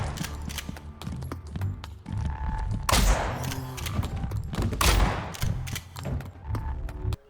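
Rapid gunfire from zombie combat in the video game Phase Zero, with guns blasting in close repeated bursts over a busy game soundscape, louder volleys near the middle and end.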